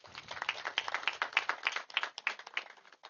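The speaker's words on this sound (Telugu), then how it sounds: "గట్టిగా క్లాప్స్ కొడదాం" An audience applauds and claps at a gathering, a dense, steady patter of many hands lasting the whole stretch, close and moderately loud with no talking over it.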